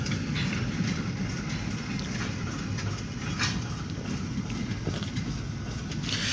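Short freight train of grain hopper cars rolling south through a freight yard, a steady, continuous rumble with rattling wheel and car noise throughout, fairly close and constant, with no voices.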